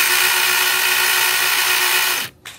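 A Pumpkin cordless electric 2-in-1 pole chainsaw runs with a steady, high, whirring motor whine, loud and close, then cuts off abruptly.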